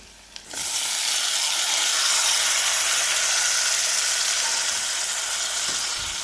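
Tomatoes go into hot oil in a pan for a green beans curry: after a brief knock, a loud steady sizzle of frying starts and holds at the same level, close and without talk.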